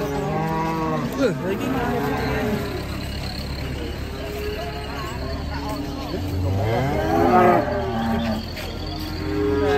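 A lame cow and other cows moo repeatedly in long, loud, wavering calls, several overlapping across the clip, with a steady outdoor background hum and faint voices.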